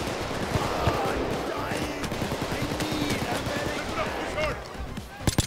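Sniper and automatic gunfire in a video game bank robbery, a dense run of sharp shots and bursts throughout with a few louder cracks near the end, heard under player voice chat.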